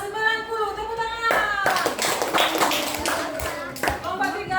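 Clapping in a classroom as students applaud a group, several bursts of hand claps that start after a spoken voice and continue with talk over them.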